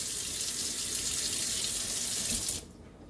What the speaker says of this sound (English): we're going to run the cold water and just kind of fill it up